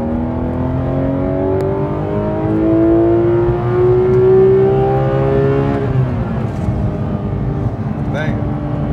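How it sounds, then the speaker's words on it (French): A Porsche GT3 RS sports car engine revs hard and climbs in pitch, holding a high whine before dropping back, loud and close throughout. "pour entendre le moteur à son paroxysme"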